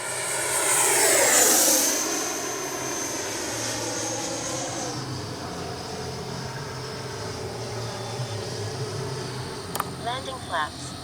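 An FMS Avanti S 90mm electric ducted-fan RC jet screams past at full speed with a loud rising-then-falling whine, then a steady roaring hiss as it continues overhead, outdoors with a voice speaking.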